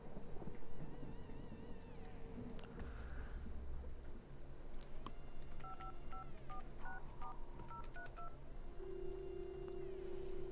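Touch-tone keypad beeps from a video game phone, several short dialing tones in a quick, uneven sequence, followed by a steady held tone, with no talking.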